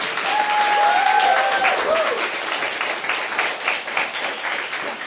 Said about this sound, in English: let's give Michia a big hand